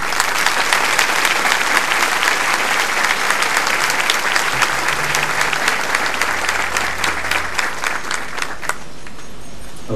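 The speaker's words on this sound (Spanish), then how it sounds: "Damos un fuerte aplauso." Congregation applauding in church during a Eucharistic celebration on a pilgrimage, loud dense clapping that holds steady then trails off near the end.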